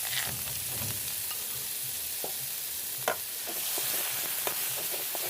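Spicy Thai curry paste stir-frying in oil for an eel dish, a steady soft sizzle with occasional scraping clicks of a utensil stirring the pan, no voices.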